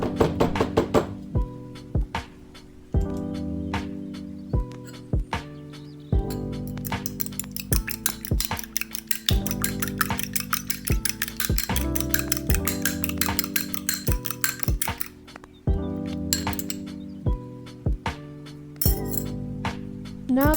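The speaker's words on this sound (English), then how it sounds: "Now that I've beaten my egg" An egg being beaten in a bowl for Biscoff cookies, with a utensil clinking rapidly and repeatedly against the sides in short bursts, close and bright, with brief pauses.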